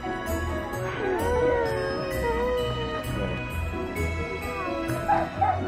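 Husky dogs at a sled-dog spot in Santa Claus Village, Finland, give repeated barks and yips, with some whimpering, against steady background noise and music-like tones. Voices are heard faintly.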